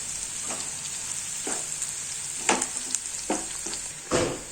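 Curry leaves sizzle and crackle in hot oil in a pan of browning onions for a Marathi-style tomato chutney, a steady frying hiss broken by several sharper spatters and stirring scrapes, close and with no voices.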